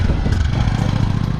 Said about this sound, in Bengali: আর আমি এই বাইকটায় আসছি